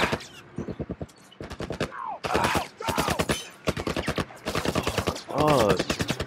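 Rapid bursts of gunfire from the video game The Last of Us, with rattling automatic volleys and single shots in dense clusters, loud and close, interspersed with a player's voice talking excitedly between the bursts.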